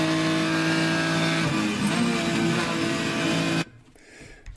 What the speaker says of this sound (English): now you're full throttle for this entire section